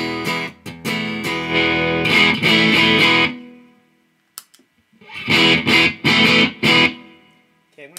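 Electric guitar played through a Bugera V55 amp head on its clean channel, two bursts of strummed and picked chords ringing out with a pause between, loud and close with no talking.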